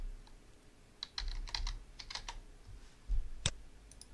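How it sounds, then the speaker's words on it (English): Quiet, close clicks of a computer keyboard come in small bursts as an IP address is typed. One sharper keystroke stands out near the end, over a low background hum. "type in the remote machine's IP"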